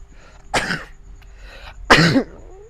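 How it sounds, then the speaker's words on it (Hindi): Two sharp, loud sneezes, spaced about a second and a half apart, burst out over a quiet indoor background with a faint steady hum. "बारिश की वजह से थोड़ी छींक आ रही है"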